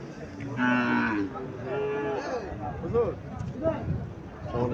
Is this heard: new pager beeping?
no